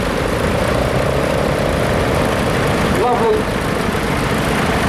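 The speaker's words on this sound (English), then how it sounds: "This is another little working Ferguson." Small four-cylinder Standard petrol/paraffin engine of a working Ferguson tractor, a steady idling drone throughout at a show arena parade, with a commentator talking over it on a public address.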